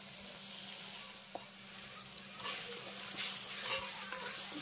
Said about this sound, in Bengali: নেড়ে চেড়ে একটু ভালো করে কষিয়ে নেব, যাতে করে আদা রসুনের কাঁচা গন্ধটা খুব ভালোভাবে চলে যায়।